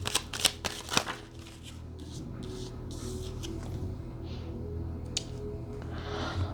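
Tarot cards shuffled by hand, a quick burst of crisp riffling flutters near the start, then softer intermittent card slaps and rustles over a low room hum.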